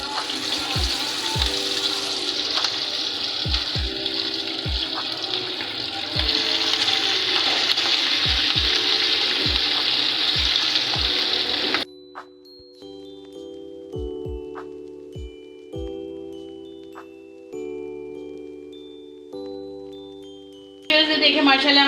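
Chicken wings fry in hot oil with a loud, steady sizzle and regular low knocks for about twelve seconds, then the frying drops away under background music and a voice, with the sizzle returning briefly at the end.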